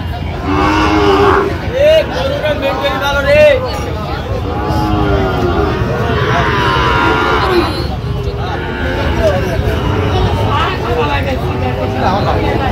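Sahiwal cattle and calves moo repeatedly and loudly amid a noisy crowd of overlapping voices at a cattle market in Dinajpur, the lowing rising and falling throughout.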